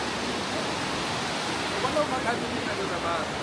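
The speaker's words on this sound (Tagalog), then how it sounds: "Yun guys, yun yung Shirahige Waterfall." Shirahige Waterfall in Biei, Hokkaido gives a steady, broad rushing roar of falling water, heard from a nearby bridge and continuous throughout.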